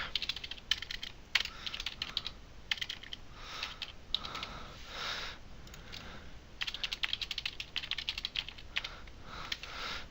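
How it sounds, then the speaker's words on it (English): Quick typing on a computer keyboard, bursts of close, crisp key clicks with short pauses between them and no voices. "I can make an announcement about open house. And I'll type something up really quick."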